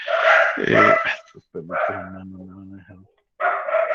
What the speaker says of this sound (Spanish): ¡Ese perro, profe!